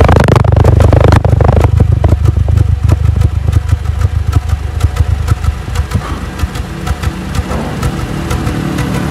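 A loud, rapid putt-putt exhaust pulse throbs close by, a steady rhythmic engine chug with rumbling low end filling the whole stretch.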